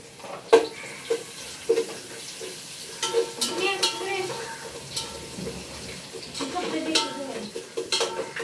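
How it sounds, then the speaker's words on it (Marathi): Garlic and grated coconut roast in a pan, with a spatula scraping and clinking against the metal at irregular intervals over a soft background sizzle, close and moderately loud. "लसूण खोबरं भाजून द्यायचं चांगलं."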